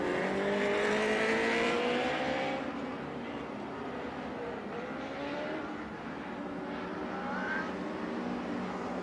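Lightning sprint cars racing on a track, a roar of several engines rising and falling as the cars sweep past, loud at first, then a steady distant drone with another car passing near the end.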